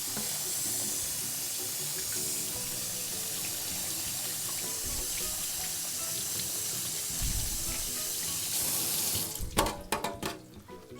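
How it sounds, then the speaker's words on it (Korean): Cold tap water gushing steadily into a sink as boiled noodles are rinsed, a continuous close hiss and splash that ends in a few sharp clattering knocks near the close. "그냥 여기다가 부어서 찬물에 한번 헹궈 줄게요"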